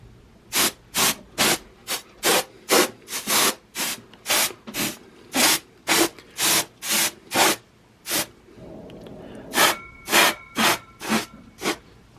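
Short, rhythmic bursts of compressed air blow dust out of the inside of a Marantz SR7300OSE receiver. About twenty close, loud hissing puffs are separated by brief pauses, without any talking.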